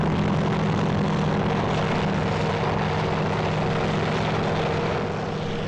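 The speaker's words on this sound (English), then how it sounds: "Looks like the Marine H-34 is coming in." A Marine H-34 military helicopter coming in to land in Vietnam, its loud, steady rotor and engine drone filling the whole span up close.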